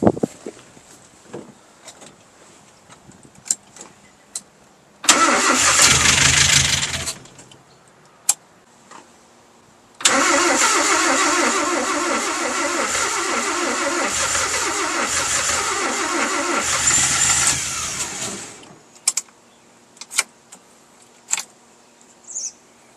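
A Kia FE3 engine swapped into a Mazda B2200 pickup cranks and fires in two bursts. A short loud start dies out, then a longer run roars and idles unevenly before cutting off, with clicks in the quiet gaps.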